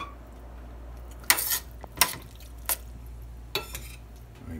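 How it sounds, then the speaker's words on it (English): Cooked, cooled rice spooned into a quick chopped meat sauce for stuffed peppers: a few sharp spoon-on-pot clanks and scrapes over a low hum, no talk. "we're going to slowly add our rice to it"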